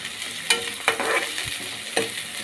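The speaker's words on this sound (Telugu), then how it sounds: "ఉల్లిగడ్డలు కొంచెం ఫ్రై అయ్యే వరకు వేసుకున్నాము" Onions and green chillies fry in hot oil for a boti curry, a steady close sizzle broken by several sharp stirring scrapes spread across the clip, with no voices.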